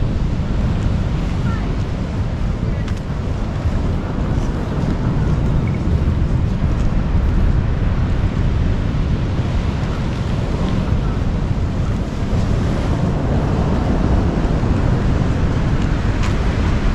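Autumn storm waves surging onto the pebble beach at the central embankment in Alushta, a loud continuous roar of surf and wind buffeting the microphone, with rattling stones faintly under the noise.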